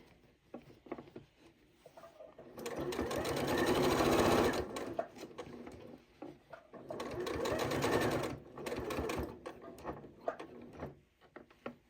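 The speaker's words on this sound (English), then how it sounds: "I'm going to stitch down to this dart" A Janome 8200 QCP sewing machine stitches through fabric in two steady running bursts of rapid needle chatter, separated by a short pause, close and fairly loud.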